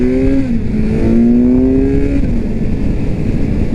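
A 2020 Kawasaki Z900 motorcycle being ridden, its engine note rising in pitch as it accelerates, then dropping off into steady rushing road and wind noise, heard up close with no one talking.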